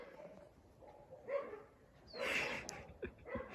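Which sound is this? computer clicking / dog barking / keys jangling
dog barking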